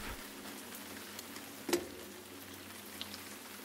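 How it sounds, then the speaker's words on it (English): Soft, steady patter of light rain on a roadside during a cross-country bicycle tour, faint and continuous, with one brief louder knock partway through and no talking. "It's raining a little bit."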